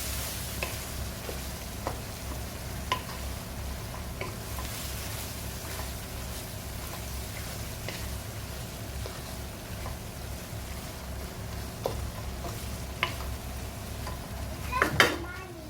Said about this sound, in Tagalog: And then we have to mix it well.